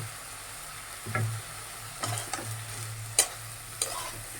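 Pre-fried sweet pumpkin stirred into sizzling spice paste in a pan, a steady close sizzle broken by several scraping stirs and spatula knocks, no speech.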